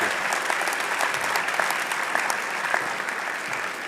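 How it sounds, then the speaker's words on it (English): Sustained, even applause fills a hall at a fall convocation ceremony for supply chain management graduates, a broad crowd clapping continuously with no letup. "please give a round of applause for the graduates from the Supply Chain Management Program"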